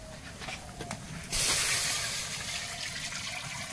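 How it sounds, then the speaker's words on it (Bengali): Water poured into a karahi set on the stove in a home kitchen, a sudden loud rushing splash that starts partway through and continues as a steady hiss to the end, heard alone without talk. "দুই দিকে দুটো কড়াই বসিয়েছি, এবার জল দেবো।"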